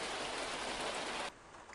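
Steady, dense rain hisses in the OMSI 2 bus simulator, a loud even wash of falling water that suddenly drops to a much quieter level partway through.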